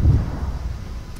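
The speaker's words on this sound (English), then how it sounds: "Oh, something just blew up near me." Explosion nearby in the video game Arma 3, a deep, rumbling boom that rolls out over about a second, heavy in the low end and fairly loud.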